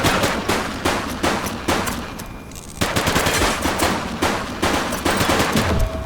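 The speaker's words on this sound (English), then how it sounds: "He's shooting!" Bursts of automatic and rapid gunfire in a police shootout in the video game The Precinct, loud and close, with a brief lull midway before the firing resumes in heavy, stuttering volleys.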